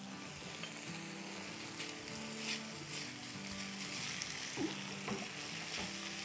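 Second batch of potato fries deep-frying in extra-hot oil, a steady close sizzle and crackle with bubbling bursts throughout, no voices.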